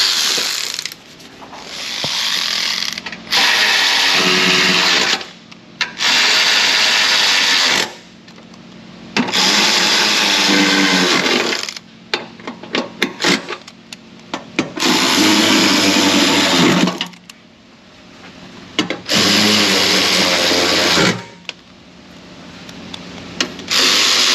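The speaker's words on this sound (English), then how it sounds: "We'll use the ratchet." A ratchet loosening fasteners on a Toyota 2GR-FE 3.5L V6 engine during a top-end teardown: bursts of rapid, loud, close clicking, each lasting a few seconds, separated by short quiet gaps, with no talking.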